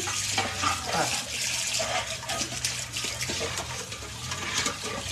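A stainless steel mixing bowl is rinsed under a running kitchen tap while baking a chocolate charlotte, giving a continuous rushing splash of water with scraping and sloshing bursts as the bowl is handled.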